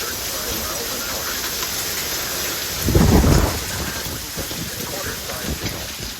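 A severe thunderstorm in southern Wisconsin with steady heavy rain throughout and a loud, close rumble of thunder swelling up midway; faint voices sit under the storm.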